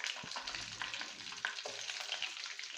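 Whole onions frying in hot oil for Chettinad kara kuzhambu, with a soft steady sizzle and occasional crackles and pops, close and fairly quiet, no voices.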